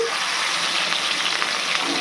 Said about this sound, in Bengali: তেলটা গরম হয়ে গেছে, এবার মাছগুলোকে একটা একটা করে ছাড়বো